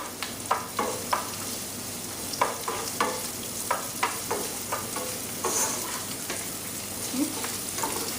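Spices crackle and sizzle as they temper in hot oil for Gujarati cooking, with a spoon stirring through them in a steady rhythm of soft scraping knocks and spitting pops, close and fairly quiet.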